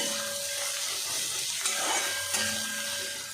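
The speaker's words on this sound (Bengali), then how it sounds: "কুচানো বাঁধাকপিগুলোও দিয়ে দিব। বাঁধাকপিটাও একটু ভেজে নেব" Shredded cabbage frying in a pan, a steady close hiss and crackle of sizzling with faint stirring clinks throughout.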